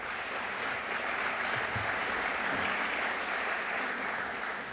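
Audience applause fills a State of the City address held at a high school, a steady, dense clapping from a large crowd that holds even for the whole stretch with no voices over it.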